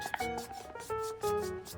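A Neutrogena makeup remover cleansing towelette rubbed over eyeshadow and brow makeup, giving close, squeaky, tonal rubbing strokes in short repeated passes.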